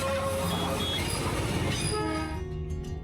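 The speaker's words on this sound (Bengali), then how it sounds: "পাশ দিয়ে টয় ট্রেন যাওয়ার পুর ঝিকঝিক শব্দ।" The Darjeeling toy train rolls past close by with a loud, steady rumble and clatter, then fades slightly toward the end.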